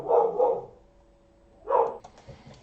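Dogs bark in the background of a home in two loud bursts, one at the start and one after a quiet pause, with a faint tonal hum in the gap.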